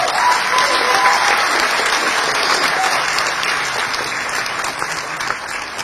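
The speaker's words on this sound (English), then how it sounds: "let's give a big round of applause to ShopUp" A large audience claps loudly and continuously at a startup investment presentation, the dense wash of applause holding strong throughout and easing only slightly toward the end.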